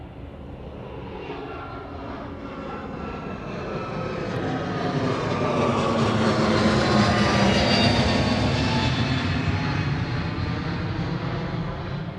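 A large airliner departs Honolulu airport, its jet engine roar swelling from a distant rumble to a loud, broad peak midway, then holding steady and slowly fading as the plane climbs away, with no talk.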